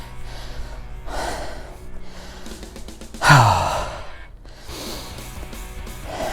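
Heavy breathing after a kettlebell workout outdoors: slow, audible inhales and exhales recur, with one sharp, louder gasping breath midway, close to the listener.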